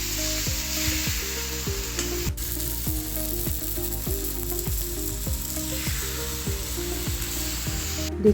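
Fried pointed gourd sizzles in a pan with salt while a spatula scrapes and knocks rhythmically, roughly twice a second, over a continuous frying hiss.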